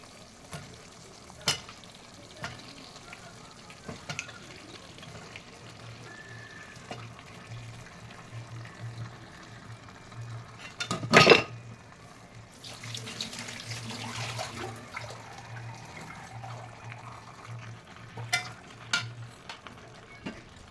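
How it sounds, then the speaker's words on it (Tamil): About a kilogram of chicken sautés in masala in a pan, making a faint, low sizzle, with a sharp burst of metal stirring clatter around the middle of the clip. "இப்போ சிக்கனை வந்து ஒரு நல்ல ஒரு பத்து நிமிஷம் வரைக்கும் நல்லா வதக்கணும் அந்த மசாலாவில்"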